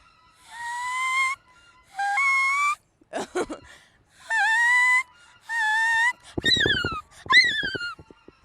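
At a state duck calling contest, a person imitates a wood duck, giving a series of high, rising squealing whistles in separate bursts, followed by sharper, breathier squeaks, close and loud.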